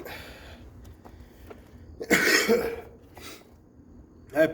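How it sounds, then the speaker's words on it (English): Person coughing and sniffling during a strongman training session, with several harsh close coughs and sharp sniffs against quieter room noise. One loud burst of coughing stands out near the middle. "I apologize for all the sniffling and coughing."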